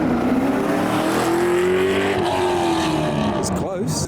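A Corvette and a Nissan GTR drag race, with loud roaring engines accelerating hard through rising gear pulls and a brief shift, heard close and dominant with crowd noise beneath.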